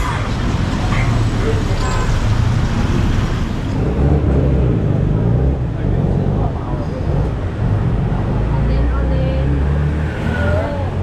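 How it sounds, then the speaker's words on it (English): Busy street traffic in Bangkok's Chinatown: a steady, loud roar of cars and buses close by, with engines rumbling and a horn tooting, while people talk under the din. "So it's pretty busy here. You see the traffic right here."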